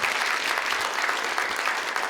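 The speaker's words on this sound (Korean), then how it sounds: "이 박수 한번 드릴까요?" Audience applause at a Christian church event with a ventriloquist performer, a steady dense wash of clapping from many hands sustained throughout without any talking.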